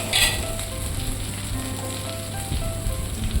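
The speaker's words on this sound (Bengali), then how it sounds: "দিয়ে দিচ্ছি সামান্য থেতু করা রসুন একসাথে ভেজে নিচ্ছি" Onions, slit green chilies and crushed garlic fry in a pan with a continuous close sizzle like light rain, a brief brighter burst near the start, no talking.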